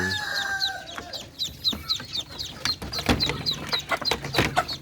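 Rhode Island chickens cluck in a busy run of short, repeated calls close by, with a rooster crowing at the start and scattered farmyard bumps between.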